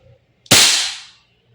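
An Umarex HK416D Gen 3 airsoft gas blowback rifle fires once, a sharp, loud crack followed by a quickly fading hiss, with quiet before and after.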